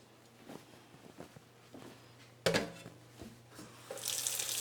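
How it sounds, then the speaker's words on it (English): A pot of boiled eggs is carried to a kitchen sink with faint knocks and clatter, then cold tap water starts running into it and hisses steadily near the end. "we're going to carry this over to the sink and run it under cold water."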